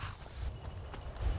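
Horse hooves clip-clop softly in Skyrim, a few faint, uneven steps close by with no talk.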